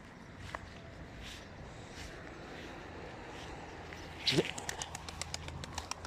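Pigeons, among them newly arrived young birds being taught to feed, make faint sounds over a quiet background, then a sudden close burst of wing flapping followed by soft repeated taps and coos.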